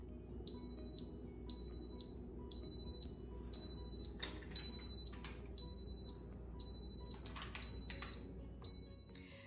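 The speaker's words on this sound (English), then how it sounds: "When timer goes off," A pressure cooker timer sounds repeated, evenly spaced high electronic beeps, about ten in a row, while faint kitchen clatter plays underneath.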